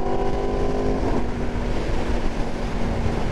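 Aprilia RSV4 1100 Factory motorcycle fitted with a slip-on exhaust, engine running at a steady loud idle-to-rev drone with a rising tonal whine near the middle, heard up close with no talking.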